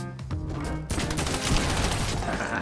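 Rapid gunfire bursts in the Fortnite video game, dense crackling shots filling the whole stretch with no pause, louder and thicker after the first second, as a busy firefight in a clown-themed Tilted Town match.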